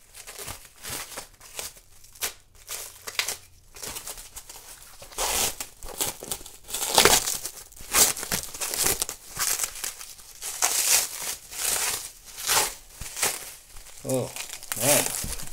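Cellophane wrapping on a comic book gets crinkled and torn in repeated bursts close up, the crackling growing busier and louder after a quiet start.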